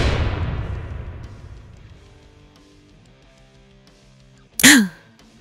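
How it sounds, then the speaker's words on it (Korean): A single gunshot in a Korean audio drama about a night raid on a police station booms at the start and trails off slowly over about two seconds, followed by near silence and then a brief, sharp, voice-like burst. "첫 총성이 어둠을 찢었다."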